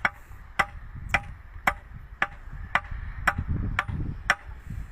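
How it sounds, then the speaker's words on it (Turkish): An iron point struck with a hammer into stone to make a nail hole, giving sharp, evenly spaced metallic clinks about twice per second over a low background rumble, with no voices. "Çizdiğimiz yerin ortasına bir tane çivi deliği yapıyoruz."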